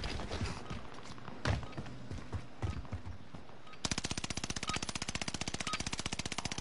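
A PPSh submachine gun fires in the video game Warzone. A long, fast, evenly spaced burst of loud shots starts abruptly partway through and follows scattered thuds and game noise.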